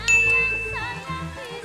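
A bright bell ding rings out at the start and sustains with a shimmering tone, the subscribe-bell sound effect in an Indonesian food review, with background music underneath and a softer chime after.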